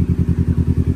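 Bajaj Dominar 400 motorcycle engine idling up close on an uphill group breakfast ride, a loud, rapid low-pitched throb with an even pulsing rhythm.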